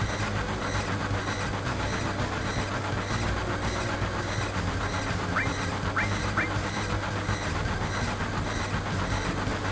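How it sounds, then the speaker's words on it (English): A moving train rumbles steadily in the Final Fantasy 7 video game, a continuous rolling drone with faint metallic squeals near the end, with no voices over it. "we're going to jump out of a moving train as fast as we possibly can"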